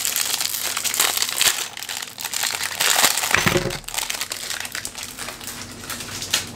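Packing paper is crumpled and crinkled up close during the unboxing of a Ruger Security-9 pistol, making a continuous loud rustle with dense crackling throughout.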